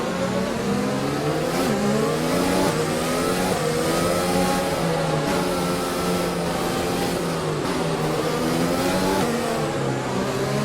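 Racing cars in a Brazilian Grand Prix racing video game accelerating together after a safety car period, a loud continuous chorus of rising and overlapping engine whines across the whole stretch.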